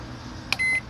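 A microwave oven whose keypad has been swapped for an attached button switch gives a short click followed by a single clear electronic beep, close and alone.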